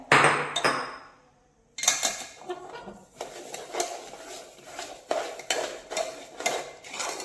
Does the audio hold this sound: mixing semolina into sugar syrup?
yes